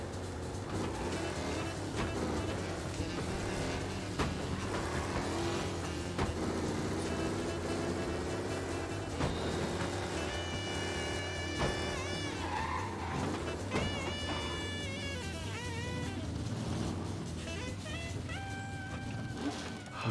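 An old car drives and skids in the Mafia Definitive Edition video game, with engine drone and tire squeals under a dense, continuous layer of game sound and music.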